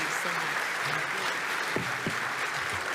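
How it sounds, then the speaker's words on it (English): Thick, continuous applause fills a breakfast event hall in honour of BC resource ministers, with a few brief voices cutting through the clapping. "please give these ministers an incredible round of applause for some great conversations"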